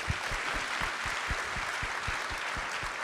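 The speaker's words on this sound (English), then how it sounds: "How about another round of applause for them?" Audience at a conference applauding a Singaporean music ensemble, steady dense clapping at moderate distance, continuous and fairly soft overall.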